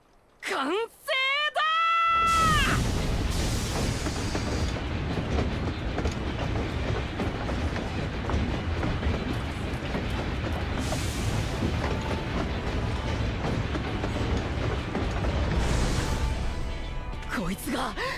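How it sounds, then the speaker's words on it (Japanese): Dawnblazer, a bomb train in Final Fantasy XIV, runs with a loud, steady rumble and rattling clatter for most of the run, after a short opening of rising tonal voice-like calls. "こいつが最強の爆弾列車、その名もドーンブレイザー号だ。"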